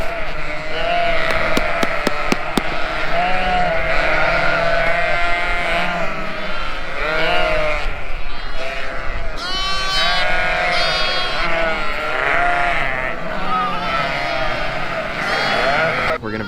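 Lambs bleat loudly and almost continuously on a farm, many overlapping calls forming a dense, close chorus of the flock throughout.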